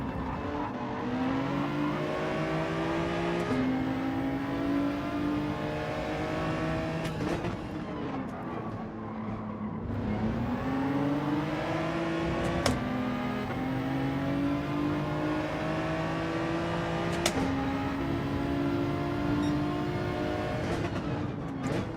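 Race car engine in Gran Turismo 7, a loud sustained roar with revs climbing through repeated upshifts and dipping under braking, driven steadily without talk.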